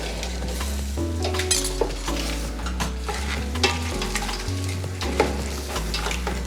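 Vegetables sizzle in a pan for a blue lobster risotto while white wine and cognac are splashed in to deglaze, making a continuous loud frying hiss with quick stirring scrapes and light clinks over a low steady hum.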